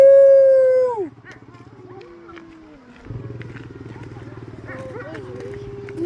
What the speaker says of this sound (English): The wolves. They're howling.